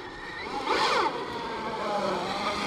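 Arrma Mojave 4S RC truck running on 5S power, its loose body scraping against the spinning tires with a steady whirring hiss that swells briefly, close and continuous with no talk.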